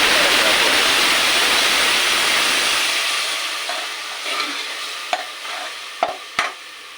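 Half a glass of water hits a hot pan of well-browned onions with a loud hissing rush that fades after a few seconds, then gives way to a few sharp clinks and scrapes of utensils.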